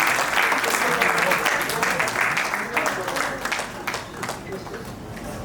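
Sustained applause from an audience at a Rotary Club meeting, a dense steady wash of clapping that slowly softens toward the end, with no voices over it.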